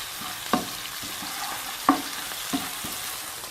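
Onions frying in a pan for a turnip bharta, a soft continuous sizzle broken by three sharp stirring knocks of a spoon against the pan.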